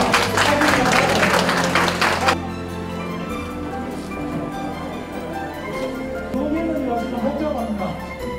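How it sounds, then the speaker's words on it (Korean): Audience clapping at the 2014 Busan Student Biennale, a loud burst for the first couple of seconds that cuts off into a host speaking over background music. "박수 부탁드리겠습니다"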